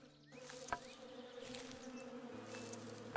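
Bees buzz in the video game Above Snakes, a steady insect drone running through the whole stretch at moderate level, with a couple of brief clicks and no talk.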